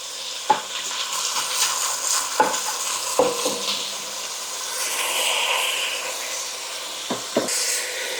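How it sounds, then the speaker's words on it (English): Frozen diced onions saute in olive oil in a large Dutch oven for a vegetable soup, sizzling steadily up close while a spoon knocks and scrapes against the pot several times. "start sauteing our vegetables, and get this soup built"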